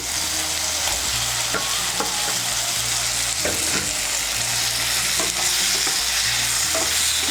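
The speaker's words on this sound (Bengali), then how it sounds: "তেলের সঙ্গে মিশিয়ে নিয়ে ঝিঙেটাকে একটু ভেজে নেব।" Ridge gourd frying in oil with chopped tomato in a pan, a steady loud sizzle throughout with repeated scraping knocks of a spatua stirring, no talking.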